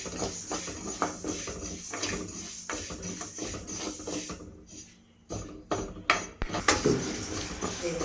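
A spoon stirs moong dal as it dry-roasts in a pan, scraping and clinking against the metal in uneven bursts, with a brief lull before more rapid clatter.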